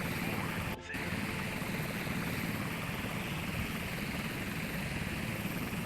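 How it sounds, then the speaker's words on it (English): A naval warfare video game's helicopter rotor drones in a constant whirring wash, steady and moderately loud, broken only by a short dropout near the start. "Second helicopter is going to be a little bit of time before it engages."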